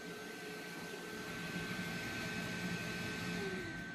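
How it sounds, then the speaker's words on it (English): A vacuum cleaner running steadily on power from an inverter, a continuous whirring drone with a high steady whine, moderately quiet and unbroken, with no talking. "The vacuum is running."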